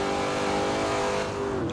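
A 2015 Corvette Z06 with an 8-speed automatic revs hard under acceleration in the racing game Forza Horizon 2. The engine roar is loud, steady and close, with no talk over it.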